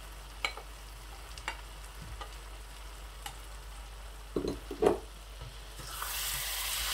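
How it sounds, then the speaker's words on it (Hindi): Fried okra (bhindi) is stirred in a pan, with a soft steady sizzle and a few sharp scrapes and clinks of the spoon. A louder hiss rises near the end. "बड़े ही प्यार से इस तरह भिंडियों को मिक्स करना है"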